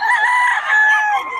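A rooster crows once in a short, loud, close call with a rising then trailing tone, with no other sounds around it.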